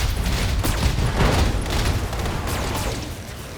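An Annihilator mech fires a weapons salvo in the BattleTech strategy game, a short burst of dense overlapping gunfire and booms that fades slightly toward the end.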